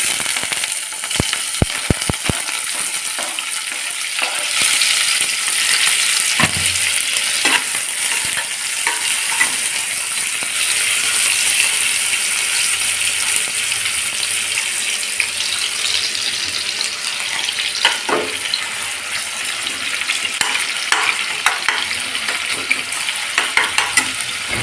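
Onions with chili and ginger fry in a pan for a fish gravy, crackling and hissing under busy stirring and clinks, with running water audible in the home kitchen background.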